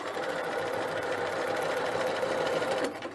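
Sewing machine stitching around the back neck edge curve of a dress collar, running in one continuous even whir before stopping near the end.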